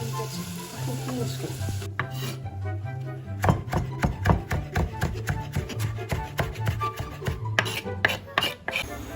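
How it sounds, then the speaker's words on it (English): A knife chops herbs on a board in quick, uneven bursts of sharp taps, close by, while onions and garlic sizzle faintly in a pan behind. "you can get on with chopping your herbs in preparation for later"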